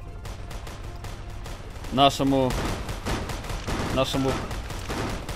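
Gunfire rings out in the tactical army video game Colonel Clone Armies, with a couple of sharp, loud shots and bursts cracking over a steady game soundscape while someone talks throughout.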